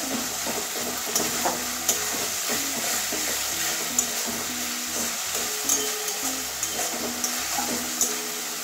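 Spice paste for a prawn curry with ridge gourd and potato sizzles loudly in a pan, a constant hiss of frying with repeated scraping knocks of stirring; no one speaks.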